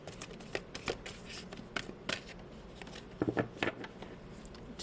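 Tarot cards are shuffled by hand in quick, papery riffles and slides, a burst of crisp flicks repeating across the stretch, close and fairly quiet with no talking.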